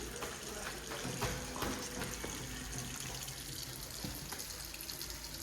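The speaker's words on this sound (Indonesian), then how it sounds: "kita biarkan air mengalir terlebih dahulu" Steady broadband rush of tap water running continuously, close by, with occasional faint clinks and splashes in the stream.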